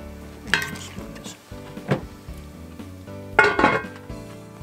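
Dishes and a plate clink and clatter at a campsite cast-iron cooking setup, three distinct bursts of handling with quieter rattles between, close and moderately loud.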